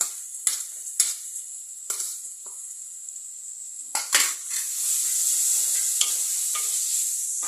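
Onion and tomato sauté in a clay pot for radish sambar, a steady sizzle broken by sharp scrapes and clacks of a spoon stirring against the pot, close and alone without speech.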